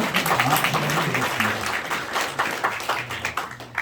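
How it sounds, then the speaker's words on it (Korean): Applause from the audience at a 2022 degree ceremony of a Korean theological graduate school: many hands clapping briskly and loudly, with a faint low voice underneath, and the clapping tapers slightly toward the end. "크게 박수해 주시기 바랍니다"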